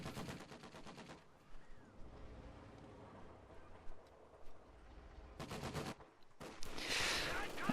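Bursts of rapid machine gun fire from a World War II strategy game skirmish, a dense rattling volley at the start and more clattering bursts near the end, with quieter battle ambience between.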